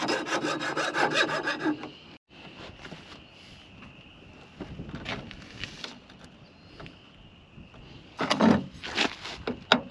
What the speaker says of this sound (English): When you cut tubing, sometimes it swells in.